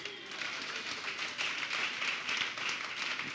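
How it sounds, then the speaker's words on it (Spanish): A church congregation applauds during a Sunday worship service, a steady wash of many hands clapping at moderate volume without clear individual claps standing out. "Damos ese aplauso al Señor"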